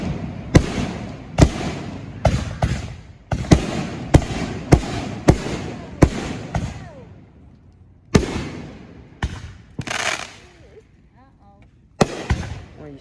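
Fireworks at a family backyard show burst in a rapid series of sharp, loud bangs with crackling tails, then a pause and a few more scattered blasts, while people talk and call out nearby.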